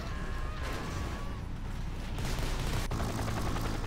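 Rapid quad cannon fire in the Rise of the Reds real-time strategy game, a dense continuous crackle of gunfire with one sharp crack near the end, mixed with game sound effects.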